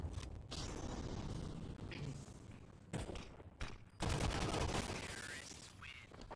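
Gunshots during a Counter-Strike esports match, with quick bursts of fire and mechanical clatter under a busy, fairly quiet game mix.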